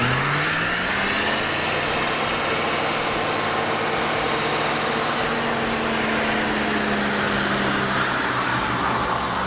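A 1979 Chevrolet Camaro barn find revs its engine while spinning its tires, a steady, close mid-pitched roar that climbs slightly in pitch over a constant broad rush of noise.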